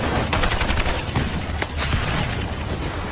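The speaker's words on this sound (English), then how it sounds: "The SEALs are immediately pinned down by a barrage of machine gun fire." Machine gun fire in a barrage during a battle, as Navy SEALs are pinned down on a ridge after a Chinook lands, with dense, continuous rapid bursts and booming shots, loud and close throughout with no talk.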